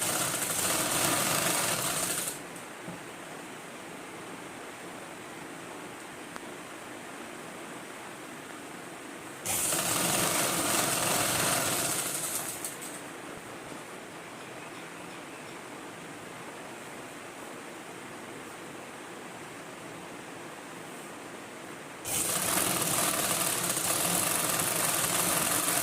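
Sewing machine stitching the collar of a government school uniform coat, running in three loud, steady bursts separated by quieter pauses, with no voices.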